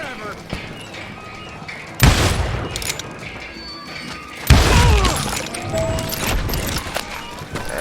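Gunfire erupts in the Western shooter Call of Juarez Gunslinger, two heavy booming blasts with crashing, shattering debris and echoing tails over a low game background.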